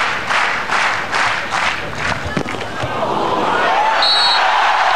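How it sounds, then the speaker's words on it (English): Arena crowd at a 2004 beach volleyball Grand Slam final in Berlin, Germany versus Switzerland, lets out a loud sustained groan as the ball drops off the net, a broad roar of many voices filling the hall. "the crowd groaning because they thought that the point had gone the way of Switzerland, but the ball dropping off the net"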